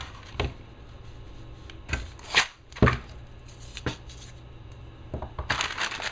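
A 3M M3000 hand masker rolls out masking tape with soft crackling and rustling, punctuated by several sharp snaps and crinkles as the tape is torn off, close up and fairly quiet.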